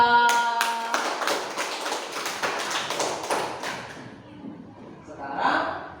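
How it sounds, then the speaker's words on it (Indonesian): Classroom of students clapping for a classmate, a burst of quick sharp claps that gradually thins and fades, followed by faint murmuring voices. "Kasih tepuk tangan buat Mas Alfa."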